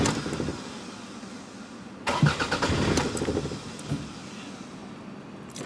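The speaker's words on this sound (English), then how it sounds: "Engine starting stall." A Toyota engine cranking over without catching, showing an ignition fault, with two bursts of rhythmic starter churning separated by quieter gaps, heard close and alone.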